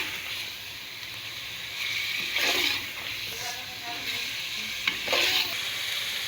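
Spiced keema frying with masala and tomatoes as it is stirred, a steady soft sizzle broken by a few louder scraping, stirring bursts, close by with no talk.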